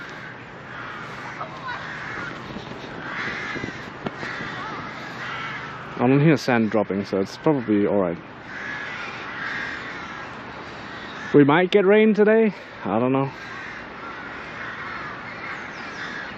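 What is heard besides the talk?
crows cawing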